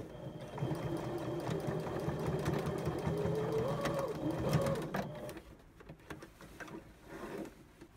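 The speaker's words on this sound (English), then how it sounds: "Spread out your scrunches and sew on the other side." Sewing machine running steadily through fabric while a strapless top is sewn, a close, continuous mechanical whir with fast rhythmic needle clatter that carries on for about five seconds and then stops, leaving quieter handling noises.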